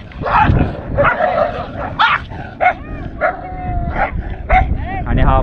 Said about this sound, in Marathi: कुत्र्यांची भांडणं माझ्या एरियात कसं काय आलं.